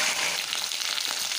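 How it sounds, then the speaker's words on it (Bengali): Taro stems and potato sizzle steadily in hot mustard-dark fish-frying oil tempered with five-spice, a dense, even crackling hiss with no voices over it. "এখন এই সরা কচু আর আলুটাকে আমি ফোড়ন দিয়ে ভেজে নেব।"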